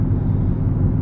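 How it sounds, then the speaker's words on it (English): Low, steady engine rumble of a car with a big smoking engine heard from a passing vehicle; a loud, continuous drone with no voices. "there's a car with a big smoking engine here that I'm just driving past"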